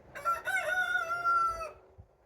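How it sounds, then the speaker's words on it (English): A rooster crows once nearby, a loud, drawn-out cock-a-doodle-doo lasting under two seconds before fading into quiet outdoor background. "Thank you, Mr. Rooster."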